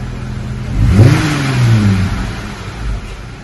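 A 2020 Jeep Wrangler with a Magnaflow wide-open muffler revs up once from idle, rising in pitch and then falling back, with a deep rumbling exhaust tone close by.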